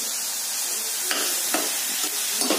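Grated carrot and sugar stirred together in a pressure cooker for carrot halwa, with soft scraping and a few louder scrapes of the spoon against the metal pot over a faint sizzle, no voices.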